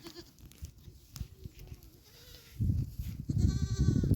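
Several goats, the main and mother goats of a farm herd, bleat nearby, calls overlapping and growing louder toward the end amid soft shuffling.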